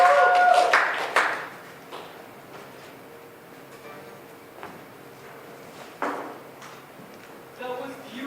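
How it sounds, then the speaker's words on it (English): An open mic audience at Camp Bar claps for a performer: a short burst of applause at the start quickly fades to a few scattered claps and quiet room noise, with a voice speaking. "applause for David Lenander"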